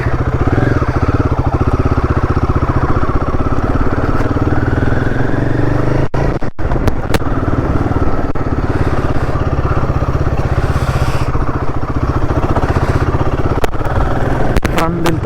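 A Royal Enfield Guerrilla 450 motorcycle ridden along a short off-road stretch gives a loud, continuous engine drone whose pitch slowly climbs, with a few brief clattering knocks partway through.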